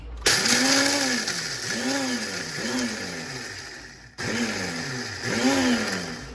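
A blender whirs and grinds dried golden-brown garlic into powder, its motor pitch swooping up and down in repeated pulses, briefly stopping before starting again loud and close.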